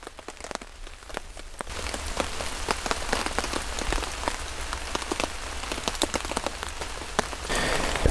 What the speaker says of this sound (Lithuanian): Nu ir va, lietus,